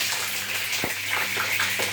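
Capsicums sizzling and spitting in hot oil after going into the pan, a steady dense crackle with one sharper pop, close and continuous.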